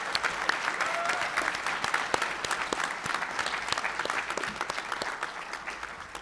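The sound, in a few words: audience applause for graduates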